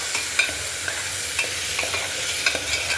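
Tomato and ginger masala sautéing in a pan over high heat, a steady close sizzle with scattered light pops and stirring scrapes throughout.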